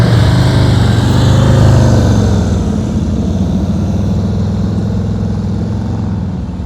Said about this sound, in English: That's one thing about having a loud exhaust. It makes my job easy. I can hear what's going on.